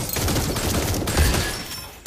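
Dense barrage of video game gunfire, a loud continuous fusillade of rapid shots lasting about two seconds, with no talking over it.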